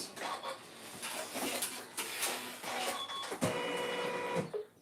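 A sewing machine runs a satin stitch around a felt appliqué with a rapid, buzzing mechanical whir. It pauses and restarts in short runs at close range, and a faint voice is heard at times.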